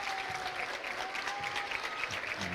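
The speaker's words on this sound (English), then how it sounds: "This crowd's fired up." A high school boys' basketball crowd cheers and claps steadily in a gym, a dense, sustained roar with a faint whistle-like tone and no clear talk.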